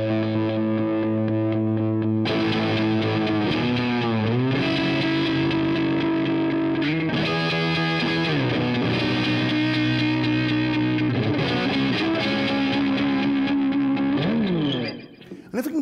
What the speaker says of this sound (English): if we go over this way, we get a really choppy sounding square wave.